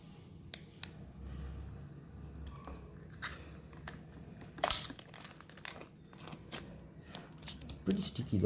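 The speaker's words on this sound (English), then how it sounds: "I'm just gonna take this covering off, just like a plastic layer." Plastic protective film is peeled off an HDMI to VGA adapter, giving soft crinkling and sharp crackling bursts close by over a quiet background.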